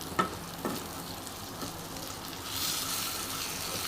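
Stuffed brinjal roasting in oil in a pan, a steady soft sizzle and crackle with a few light clinks, growing a little louder toward the end, with no talking.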